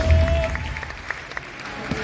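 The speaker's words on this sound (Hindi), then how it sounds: "अगर बात पसंद आई हो तो जोरदार ताली होनी चाहिए।" Scattered applause from an audience at a Hindi motivational talk: a diffuse wash of claps with a few sharper individual hits poking through, moderately loud and fairly steady for about two seconds, with a faint steady tone in the background.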